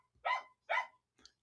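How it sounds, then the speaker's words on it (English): A dog barks twice in close succession, fairly near and clear against a quiet background, followed by a faint short yip. "Dog's making a comment now."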